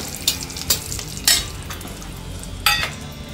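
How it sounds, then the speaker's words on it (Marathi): Curry leaves and green chillies frying in hot oil for a Maharashtrian green chicken masala, a loud crackling sizzle with several sharp spattering bursts and stirring, close and uninterrupted by speech. "त्यानंतर आपण कढीपत्ता आणि हिरवी मिरची तळून घेऊया."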